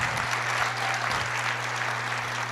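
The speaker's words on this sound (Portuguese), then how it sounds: "Agora não se esqueça, pode aplaudir." A church congregation claps steadily and densely, a sustained wash of applause that holds at an even level throughout, with a low hum running underneath.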